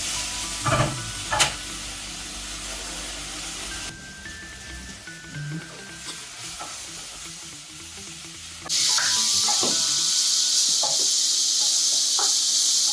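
Mushrooms for mushroom risotto sauté in a pan, with clattering stirs and soft sizzling at first, then a much louder, steady hiss of frying in the closing seconds, with no talking.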